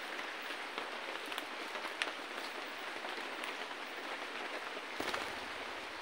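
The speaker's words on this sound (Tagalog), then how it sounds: "Umuulan na naman, tayo ay uuwi na." Steady rain falls outdoors at a bird-trapping hunt site, a dense, even hiss of drops on surfaces running throughout, with a slight shift near the end.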